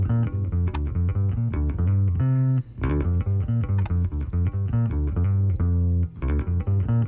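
Funk-rock bass guitar line passed through saturation with the highs trimmed, playing busy, punchy notes in a steady groove with one brief gap, solo and upfront with no talking.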